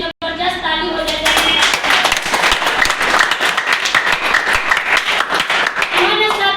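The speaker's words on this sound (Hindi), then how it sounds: "इनका जबरदस्त ताली हो जाए।" Enthusiastic audience clapping for Sanjeev Kumar, CMD of a company, at a company gathering: loud, rapid, continuous claps from many hands lasting several seconds, with voices mixed in underneath.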